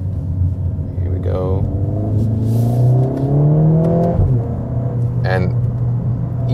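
A 2021 Mercedes GLA 45 S AMG four-cylinder in race mode accelerating from inside the cabin, its engine note climbing through gears with rising, rumbling revs and brief shift breaks, while a voice talks over it.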